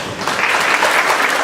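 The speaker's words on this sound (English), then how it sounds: "Bravo, and an applause for Senora Peña." A middle school assembly audience applauds, a dense, steady wash of many hands clapping at once, loud and continuous throughout.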